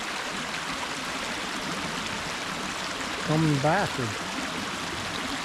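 Stream of water flowing steadily along a hiking trail, a constant close rushing wash, with someone briefly speaking over it.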